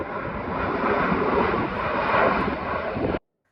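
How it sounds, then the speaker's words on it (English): A fixed-wing aircraft passes overhead on the flight path over Caleta de Fuste, Fuerteventura, a loud, steady broadband engine roar that holds throughout, then cuts off abruptly. "It's quite nice to see the aircraft going over."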